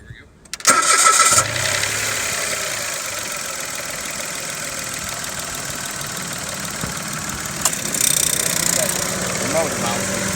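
The cheapest new production car in America is started with a key: a brief crank, then the engine catches with a loud burst and settles into a steady idle. A second short rev swells near the end.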